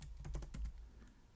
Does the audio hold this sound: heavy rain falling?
no